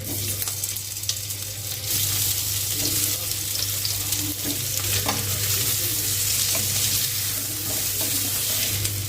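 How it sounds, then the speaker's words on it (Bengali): Potato pieces fry in hot oil in a kadai, a loud, continuous close sizzle with faint crackles and occasional stirring clinks, no voices. "আলুগুলো ভাজতে দিয়ে দিলাম।"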